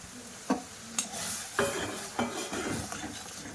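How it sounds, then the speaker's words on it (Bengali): A spoon stirs fried semolina in boiling milk in a pan, each sweep giving a sharp scrape or clink against the metal at a loose, regular pace over a soft bubbling sizzle, close and fairly quiet. "দিয়ে ভালো করে নাড়তে থাকবো, তা নাহলে দোলা পেকে যাওয়ার ভয় থাকবে সুজিগুলো"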